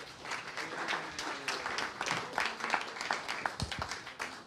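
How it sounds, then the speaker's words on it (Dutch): Audience applause at a university lecture-café event, scattered and moderately loud hand clapping of mixed rhythm from a seated crowd for several seconds. "een groot applaus graag"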